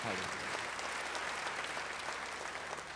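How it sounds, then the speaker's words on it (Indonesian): A church congregation applauding during a sermon, a steady close wash of many hands clapping that holds evenly throughout at moderate loudness. "Yang percaya beri tepuk tangan yang baik bagi dia."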